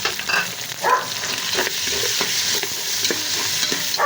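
Aromatics sautéing for pancit canton in a pan with kikiam and chicken balls, a steady bright sizzle with repeated stirring scrapes over about four seconds, close and alone without talk.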